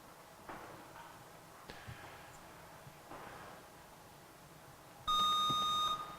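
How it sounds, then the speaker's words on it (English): A quiz buzzer sounds as a contestant buzzes in during an academic quiz match: one loud, steady electronic beep lasting about a second near the end, after quieter room noise and faint rustling. "I can't see which buzzer went off"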